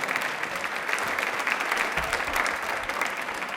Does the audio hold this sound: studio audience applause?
yes